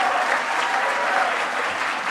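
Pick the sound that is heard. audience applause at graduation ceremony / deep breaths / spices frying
audience applause at graduation ceremony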